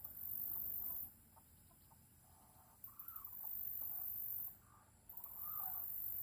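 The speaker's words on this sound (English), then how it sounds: "I got some hens in a pen here." Hens penned together at a gamefowl breeder's yard, giving soft intermittent clucks and short calls over a steady background hiss, with a couple of brief louder bursts.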